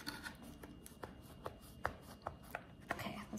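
A knife cuts a baked prune dessert into even rows, giving faint, soft irregular taps and scrapes close by with no talking.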